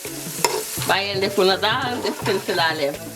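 Chicken sizzles and hisses steadily in a hot pan while caramelizing, as a person talks over the frying noise.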